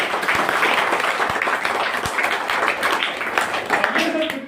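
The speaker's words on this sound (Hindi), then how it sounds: "तो आइए सर एक जोरदार तालियों से" A school audience applauds the children with loud, continuous clapping, and voices mix in underneath.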